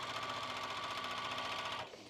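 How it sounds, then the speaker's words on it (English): A sewing machine runs steadily, stitching a straight seam through fabric for kite pants, with a fast even mechanical whir heard alone that stops abruptly near the end. "I'm going to just sew lines on this whole thing and it'll just be quilted"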